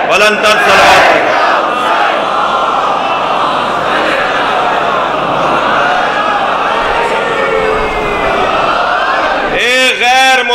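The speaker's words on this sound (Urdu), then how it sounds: "بلندتر صلوات پڑھیں۔" Large crowd at a Muharram majlis loudly reciting salawat in unison, a dense, roaring chant of many voices that holds steady for about ten seconds before a single voice rises at the end.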